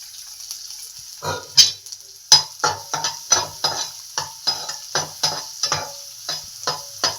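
Onions, curry leaves and peppercorns fry in a pan as a cook makes beetroot palya, soft sizzling broken by a regular run of scraping stirs close by.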